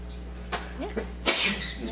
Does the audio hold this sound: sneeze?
yes